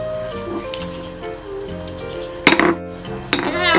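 Garlic pounded in a mortar during home cooking of fried chicken and boiled eggs: soft clinks and scrapes under a woman's speech, then two sharp, close pestle strikes near the end.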